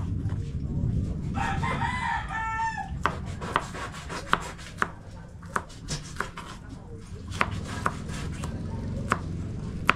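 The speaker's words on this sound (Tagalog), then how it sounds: "Gaya tayo guys ng bawang para sa lulutuin ni Gilbis." Garlic is sliced with a knife on a board, giving a run of sharp, irregular chops close by with a short sliding rub. A rooster crows in the background and faint talk can be heard.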